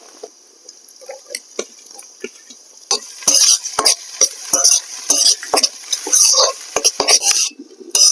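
Chopped tomato sizzles in a hot pan while a utensil scrapes and clinks against the metal in repeated stirring strokes, growing louder and busier after the first few seconds.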